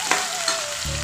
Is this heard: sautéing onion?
yes